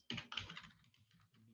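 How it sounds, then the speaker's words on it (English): Typing on a computer keyboard while coding, heard as a quick flurry of soft clicky keystrokes that thins into sparse taps, faint and close. "let's start typing each and everything"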